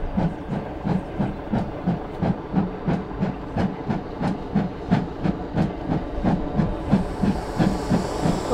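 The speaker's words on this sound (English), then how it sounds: "the train's arrived with the torch" A train arriving with the Olympic torch at a West Midlands event, giving a steady, rhythmic chuffing beat with hissing steam that grows brighter toward the end.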